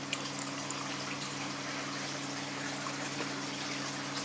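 Water runs steadily through a planted aquarium's filter, passing through padding-style filter material in a continuous close hiss and trickle with a low pump hum beneath.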